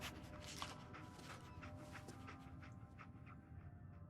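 In Fallout 4 the dog Dogmeat pants nearby in a steady rhythm of short breaths. It stays faint, over a quiet game backdrop with light shuffling.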